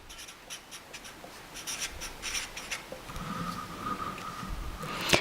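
Numbers are written by hand for a fractions lesson, close scratchy pen or pencil strokes in short bursts, then a longer stroke and a squeak at the end.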